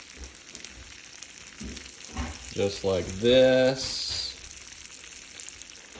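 Steady sizzling of butter in a hot pan, with a person speaking over it partway through.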